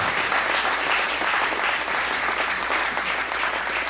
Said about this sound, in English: If you can give Coach Dykes a round of applause